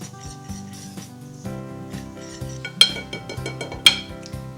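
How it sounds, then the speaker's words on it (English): A whisk clinks and scrapes against a bowl as white granulated sugar is mixed into chocolate cake batter, giving light rhythmic taps with two sharper knocks, over soft steady background tones. "Let's give this a whisk."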